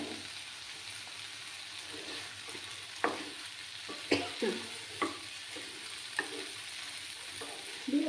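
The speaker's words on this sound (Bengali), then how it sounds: "দিয়ে ভালো করে নাড়াচাড়া করে নেব" Dates, raisins and cashews stirred into tomato chutney in a pan, soft scraping and sizzling with several distinct spoon knocks against the pan, close and fairly quiet.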